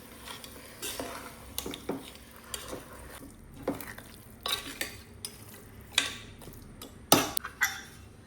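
A spoon scrapes and clatters through a pork roast mixture in a pan or cooker, irregular knocks and scrapes repeating at close range, with a faint sizzle underneath and no talking.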